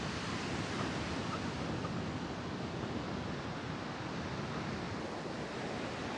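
Ocean surf rolling onto an empty Florida beach along the Florida Trail, a steady, loud wash of breaking waves with continuous broadband roar and no voices.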